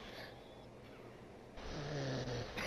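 A person snoring over a party voice chat: a low, raspy drawn-in snore that swells louder toward the end, heard through a noisy, compressed voice line.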